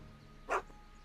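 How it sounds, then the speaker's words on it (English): A dog named in an adventure video game gives a single short, sharp bark, brief and moderately loud over a faint background hum. "my dog's name is Einstein"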